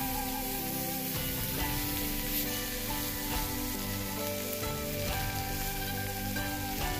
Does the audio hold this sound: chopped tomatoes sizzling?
yes